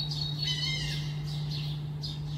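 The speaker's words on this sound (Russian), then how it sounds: "а почему-то беспокоятся чайки" Seagulls squawk repeatedly outside a window, a series of harsh, descending calls at a moderate distance over a steady low electrical hum indoors.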